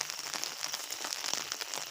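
Rain falling in Tirunelveli, a dense, steady patter of drops on surfaces with scattered sharper taps, close and continuous for the whole moment.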